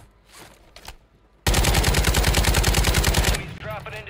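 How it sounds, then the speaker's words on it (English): Rapid automatic gunfire from a Rebirth Island video game match, a loud, close burst of about two seconds after quiet chatter, followed by scattered faint shots. "There's a gunfire there."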